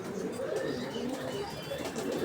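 Pigeons in a loft, a steady low cooing and murmuring chorus close by with soft background rustle throughout.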